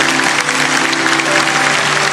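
A church congregation claps together after a sermon, a loud, dense and continuous burst of applause over a steady low hum from the hall.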